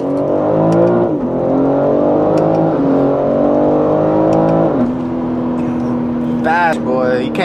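A car with an automatic transmission and magnetic shift paddles accelerates hard, its engine note climbing and dropping sharply at each quick gear change, loud and close throughout.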